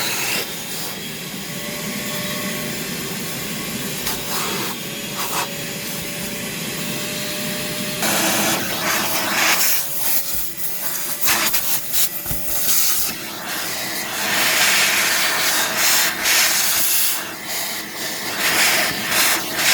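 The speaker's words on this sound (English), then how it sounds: "I'm gonna go ahead and vacuum because it is starting to get a little bit darker." A vacuum cleaner sucks beach sand from a car trunk, a loud, continuous whooshing hiss that rises and roughens as the nozzle scrapes and rattles over the carpet, with no voices.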